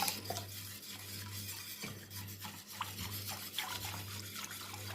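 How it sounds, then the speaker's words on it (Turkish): Metal whisk stirring milk, water and flour in a pot for béchamel sauce, a steady rubbing, scraping swirl with light clinks against the pot, close and continuous without talk. "Yavaş yavaş çırpacağım ben. Çırpıcımı alayım. Çırpıcımla daha rahat çeviririm."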